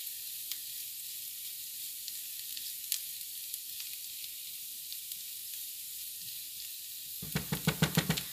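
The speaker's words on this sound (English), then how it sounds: "I'm going to finish sauteing and heating up my vegetables and ham" Vegetables and ham sauteing in a pan for hashbrown breakfast cups, a quiet steady sizzle with occasional crackles, ending in a short series of louder scraping stirs.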